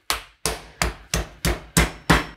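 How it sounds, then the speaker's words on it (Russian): Seven heavy, evenly spaced thuds as pork is pounded with the flat face of a meat mallet through plastic film on a kitchen surface, each blow sharp and close with a short decay. "И отбиваю не этой стороной молоточка, а плоской"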